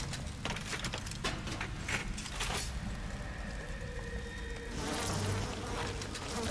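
Dense, continuous insect-like buzzing, like a swarm of bees, with scattered clicks and a louder swell toward the end, from a bee-swarm attack in the video game BioShock.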